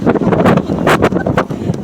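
Cold wind gusting after snowfall on a snowy evening, buffeting the microphone in loud, uneven bursts with rustling noise throughout.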